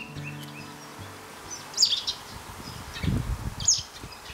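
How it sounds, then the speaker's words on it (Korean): Birds chirp in a forest along a trekking course near Daegu, with a few brief, high tweets over a faint insect buzz and some low rustling nearby. "새소리 너무 좋은데요."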